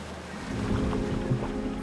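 An underground waterfall deep inside a mountain cave in the Alps makes a steady, low, rushing roar of falling water, continuous and moderately loud over a brief stretch.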